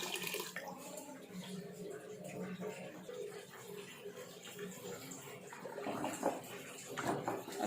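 About a litre of water poured into a pot of moong dal, a soft running, splashing flow that swells toward the end, with faint voices in the background.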